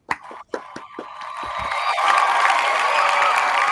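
Applause from an audience: a few separate claps at first, then swelling into steady, continuous clapping that grows slightly louder and holds to the end.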